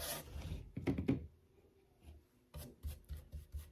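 A paint-loaded brush dragged across an old wooden planter being upcycled, giving soft rasping scrapes in a few short bursts, close and clear, with no one talking.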